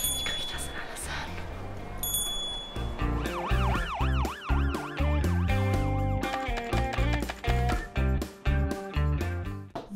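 An ambulance siren wails in rising and falling sweeps among other loud tonal sounds, starting after a quieter opening and then ending in sharp bursts.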